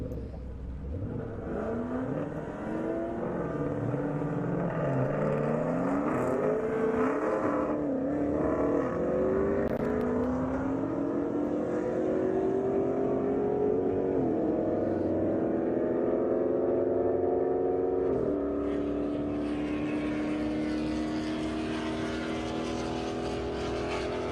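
Dodge Charger Hellcat and Ford Mustang drag racing cars roar loudly down the strip, their engines rising in pitch through repeated gear climbs in one long sustained pass.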